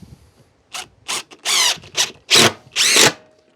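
A power screwdriver drives screws into a wall to mount a VEVOR 20 m auto-retractable compressor hose reel, several short loud whirring bursts with brief pauses between, close up and without talk.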